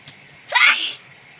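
A single sharp sneeze bursts out close and loud during a home sneezing challenge. Quiet room tone comes before and after it.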